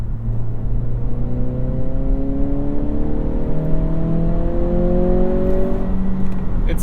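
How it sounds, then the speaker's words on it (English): A 2023 Acura Integra engine revs in sport mode with added synthetic engine sound, its rising harmonic tones sweeping higher through several gear-like climbs, loud and continuous over a low rumble. "in sport it makes a lot less fake noise, or more fake noise, up at higher revs"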